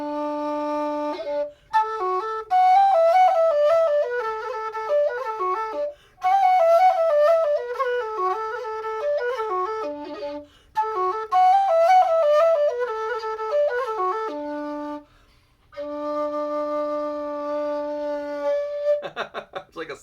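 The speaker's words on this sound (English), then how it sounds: "It's like a slide whistle." Homemade whistle with a loose tube played like a slide whistle, a loud, close melody of sliding and stepped pitches in several phrases separated by short pauses, ending on a long held note.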